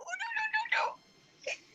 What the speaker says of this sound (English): That little kitty cat.